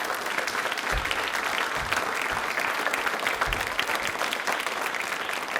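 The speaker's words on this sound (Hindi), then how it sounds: "तालियां जोरदार हो जाएं।" A large audience at a general knowledge quiz event claps steadily throughout, a dense, sustained round of applause with no voices over it.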